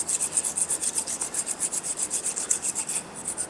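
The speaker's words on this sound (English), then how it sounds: "I just like to run the file across just to get it nice and smooth" A small square file scrapes back and forth across a Peugeot 208 front brake caliper in quick, even strokes, roughly five per second, a close rasping rhythm with no voices.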